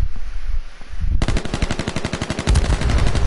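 Rapid automatic gunfire in a shooter video game, a loud, close, steady burst of evenly spaced shots that starts abruptly after a quieter stretch of ambient game noise and carries on to the end.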